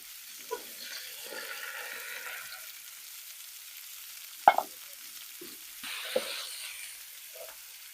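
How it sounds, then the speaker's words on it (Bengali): Marinated soybeans and previously fried potatoes go into a hot pan for a shahi niramish soybean curry, giving a faint steady sizzle with a few sharp clatters of a spoon against the pan. "সয়াবিন গুলো আর ভেজে রাখা আলুগুলো দিয়ে দেব ম্যারিনেট করে রাখা সোয়াবিন"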